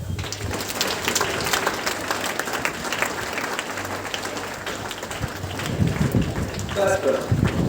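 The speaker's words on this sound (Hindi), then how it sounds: "सबके लिए एक बार जरूर अपने लिए ताली बजाएं।" A large audience at a motivational speech event claps loudly and steadily, a dense roar of applause that runs the whole time, with a few voices mixed in near the end.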